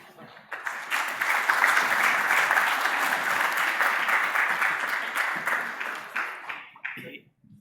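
Audience applause at a tech conference stage event, a dense steady wash of many hands clapping that swells and holds for several seconds before tapering off to scattered claps.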